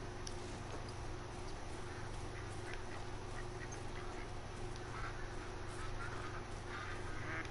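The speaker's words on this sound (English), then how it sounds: "Here come the ducks again." Ducks quack in a hunting scene from the video game Call of the Wild, faint repeated calls scattered over a steady low ambient hum, with no talk.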